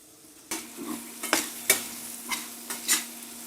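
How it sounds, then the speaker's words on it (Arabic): Thinly sliced onions hit hot butter in a pan, a soft sizzle broken by several sharp stirring scrapes at irregular intervals, close and alone. "دلوقتي بقى هنزل البصل اللي قطعناه جوانح صغيره رفيعه"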